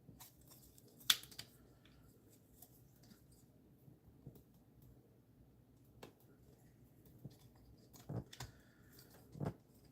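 Plastic parts of a Studio Series 86 Voyager Class Thundercracker toy figure give scattered small clicks and snaps as its side skirts are folded in. The sharp, faint, irregular ticks sound close against a quiet room.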